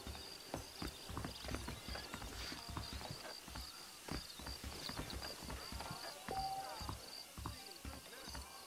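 Horse hooves clip-clopping in the video game Red Dead Redemption, a steady, moderately close rhythm of hoofbeats under faint background ambience, with a brief tonal sound near the end.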